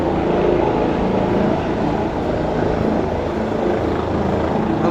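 A helicopter near a hospital flies steadily overhead, its rotor drone a loud, continuous roar throughout, with no talking.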